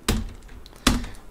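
Two sharp computer keyboard key presses about 0.8 seconds apart while editing in Photoshop, close and crisp, with quiet room tone between and no talk.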